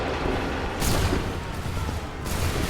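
Musket volley fire from soldiers in Assassin's Creed III, heard as a continuous rumbling roar of distant, overlapping shots with two stronger swells, with no clear single cracks.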